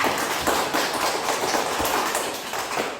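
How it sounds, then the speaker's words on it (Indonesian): A burst of quick, irregular clapping from a group of children in a classroom, sustained for a few seconds with scattered sharper claps standing out. "Tepuk tangan dulu untuk anak Nadia."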